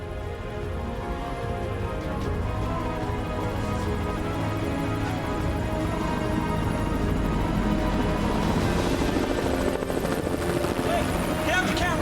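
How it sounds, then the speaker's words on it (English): Helicopters fly overhead in a narrow canyon, a loud, continuous rotor drone that stays steady and close for the whole stretch with no talking. "We heard helicopters initially flying overhead"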